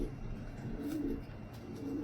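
A large racing pigeon coos softly and close by, in a low repeated burble over faint background noise.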